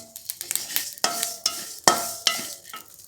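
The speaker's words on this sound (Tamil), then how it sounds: "பொரியும் பட்ட பட்ட பட்ட பட்டன்னு பொரியும்" Sesame seeds roasting over low heat in a pan, with light crackling pops and several sharper scraping strokes as they are stirred.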